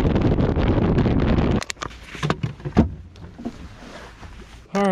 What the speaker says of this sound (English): This wind is blowing, dude.